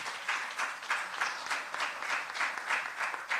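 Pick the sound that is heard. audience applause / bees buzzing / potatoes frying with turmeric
audience applause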